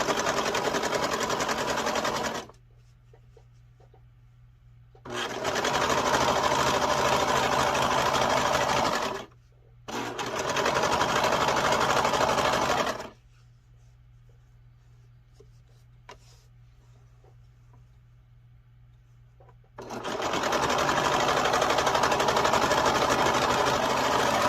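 A serger sewing machine runs in loud, rapid whirring bursts, stopping and starting several times with quiet pauses between runs.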